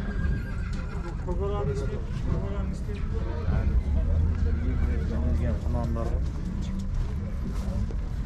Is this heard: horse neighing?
yes